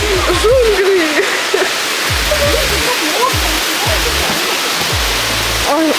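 A large jungle waterfall roars loudly and steadily, a dense close rush of falling water, while voices talk and exclaim over it.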